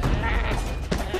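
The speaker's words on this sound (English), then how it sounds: "The goats are hostile." Hostile goats bleating in the video game SkySaga: Infinite Isles, a short wavering bleat over busy game background noise.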